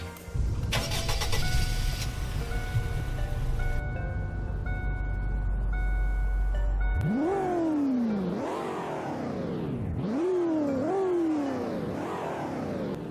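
A step-side pickup truck engine in Roblox Greenville starts with a whir, then revs up and down several times in loud rising and falling sweeps.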